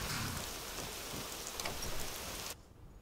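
Rain falls in the fantasy game Avowed as a dense, steady hiss of drops, alone and fairly close, ending abruptly into quieter ambience.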